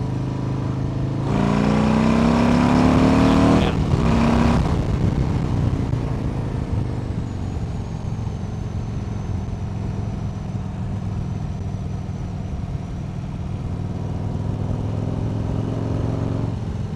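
A 2025 Harley-Davidson Low Rider ST motorcycle pulls uphill in third gear at about 3,000 RPM, its engine a steady, close, continuous drone with a rising surge early on before settling into an even roar with wind rush.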